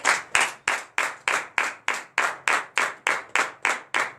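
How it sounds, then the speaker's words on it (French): A church congregation in Benin claps in unison during a Sunday service, about a dozen sharp, evenly spaced, loud group claps in a steady rhythm. "je vous demande d'applaudir très très fort"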